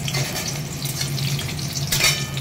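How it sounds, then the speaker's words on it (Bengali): Jackfruit pieces fry in hot oil with a constant close sizzle and a low hum, flaring briefly louder near the end as they are moved or stirred. "ভেজে নিই।"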